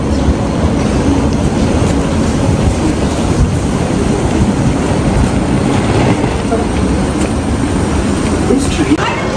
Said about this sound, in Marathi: ही ट्रेन आलेली आहे